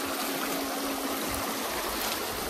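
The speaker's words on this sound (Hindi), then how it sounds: "ये चोरल नदी को हम क्रॉस कर रहे हैं।" The Choral river, heard while crossing it in the forest, flows with a continuous broad rushing hiss and a faint low gurgle beneath, steady and close, with no talking.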